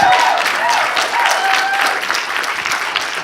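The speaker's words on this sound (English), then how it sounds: "Stephen, that's an applause for you for setting up this amazing conference." Loud audience applause at a conference, a full sustained roar of many people clapping, with a few brief tonal sounds faintly threaded through near the start.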